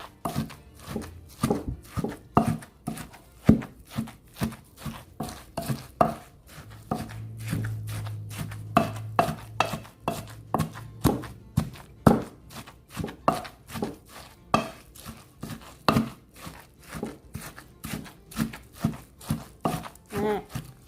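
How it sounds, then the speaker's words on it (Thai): Chilies, shallots and garlic are pounded in a mortar for a fresh pla ra chili dip, making a steady rhythm of dull thuds that carries on throughout, close and clear, with no speech. "ก็ตำพริกกับหอมกระเทียมให้เข้ากันดีเลยค่ะ"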